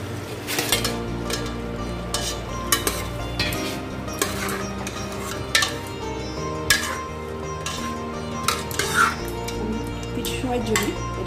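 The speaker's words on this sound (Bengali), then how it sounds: "এবার আমি হলুদ দিয়ে ম্যারিনেট করা মাংসটা দিয়ে দিচ্ছি" Turmeric-marinated mutton goes into a pan of cooked-down spices for a Bengali onion-free mutton curry, with metal spoon scrapes and clinks over a steady background sizzle.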